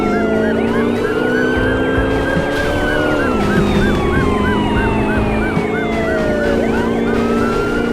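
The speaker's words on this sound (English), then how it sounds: "Police cars are still giving chase, though." Police car sirens wail continuously during a pursuit in the Car Chase Simulator video game, with overlapping warbling sirens over a loud, steady engine and road drone and no talking.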